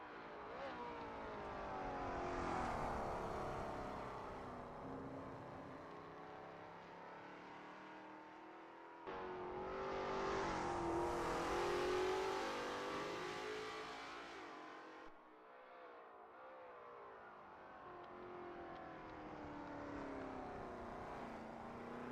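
Lola T70 MkII Spyder race cars warm up at Spa in a racing game, engines droning and revving in long rising sweeps as they pass, loud and continuous with shifts between gears.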